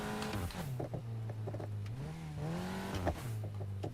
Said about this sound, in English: that's a really realistic like shift type, like DSG fart type sound